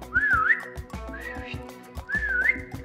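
Someone whistles a short wavering tune in two bright phrases, close and fairly loud, with light background sounds between.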